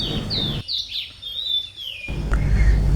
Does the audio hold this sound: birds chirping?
yes